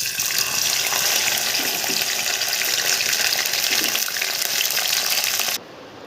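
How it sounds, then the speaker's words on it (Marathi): A steady, dense hiss of okra frying in hot oil until crisp, loud and continuous, cutting off abruptly near the end. "आता हे तळून घ्यायचे छान कुरकुरीत होईपर्यंत"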